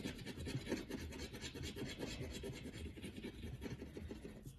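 A coin or tool scrapes across the box of a paper scratch card in a steady, close, quiet rasping rub that runs continuously without pause and with no talking.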